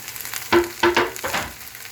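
Three big handfuls of spinach go into a large hot frying pan, giving a few loud sizzling bursts that trail off into a steady, softer frying hiss.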